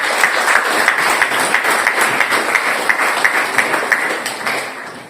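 A seminar audience at an event hosted by Pakistan's embassy in Vienna applauds: an even, moderately loud round of clapping with a faint regular tapping pulse running through it.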